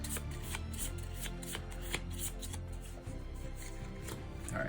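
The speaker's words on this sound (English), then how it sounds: "And look, I'm literally shuffling up 3 cards here." Playing cards being shuffled by hand during a tabletop card game, a small stack of three cards riffled in a steady, close, continuous rustle with light snaps and no talking.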